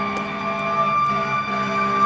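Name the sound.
emergency vehicle siren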